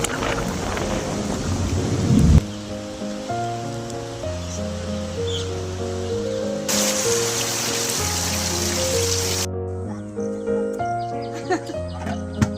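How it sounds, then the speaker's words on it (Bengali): Heavy rain hisses steadily during a thunderstorm with a sharp thunder-like burst early on, all mixed beneath continuous background music, and the rain noise drops away near the end. "ও ভাই আমাদের এখানে বৃষ্টি নেমে গেছে।"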